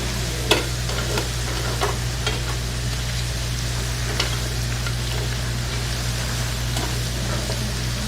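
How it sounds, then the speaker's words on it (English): Onions hiss and sizzle steadily in a pan with browned chicken, a dense, even frying noise dotted with faint crackles and light spatter ticks over a constant low electrical hum. The sound is close-up and carries on throughout, with no talking. "So we take our onions and place in."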